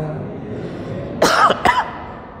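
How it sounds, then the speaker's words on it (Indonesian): A quiet room, then two sharp coughs close to the microphone, one after another. "Alhamdulillah sudah batuk."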